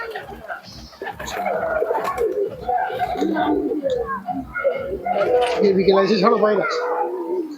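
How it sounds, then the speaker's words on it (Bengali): Madras pigeons in a loft, a flock of forty or so birds, cooing repeatedly and overlapping at close range, with a person talking and calling to them throughout. "চল্লিশ পঁয়তাল্লিশ পিস কবুতর আছে"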